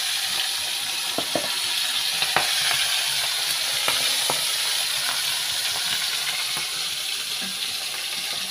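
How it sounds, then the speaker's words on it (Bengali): Hilsa fish frying in a pan sizzles steadily up close, broken by occasional clinks and light scraping as the pieces are turned, with no talking. "মাছগুলো হালকা করে ভেজে নেব।"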